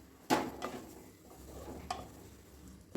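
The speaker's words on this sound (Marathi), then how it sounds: "असं परतून घ्यायचं आहे काजूच्या पेस्टला." Cashew paste sautéing in oily tomato puree makes a soft sizzle under a few sharp spatula scrapes and taps against the pan, quiet and close, with no voice.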